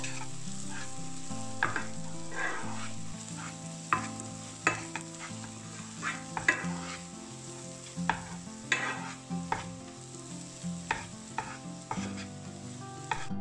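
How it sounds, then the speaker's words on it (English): Turmeric powder roasting with an onion mix in a pan, a steady close sizzle with repeated scraping and stirring strokes throughout, no voices. "It needs to be roasted for say around 30 seconds."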